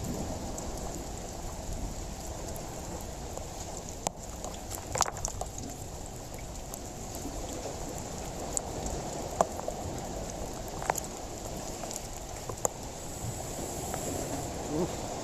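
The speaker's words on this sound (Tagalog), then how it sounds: "Grabe ang lakas ng ulan." Heavy rain pours steadily in a dense, continuous hiss, with a few sharper drips and knocks standing out now and then; nobody speaks.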